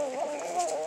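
A rooster with purple, blue and red plumage gives a short, close, throaty cluck lasting about a second, heard alone with no talking.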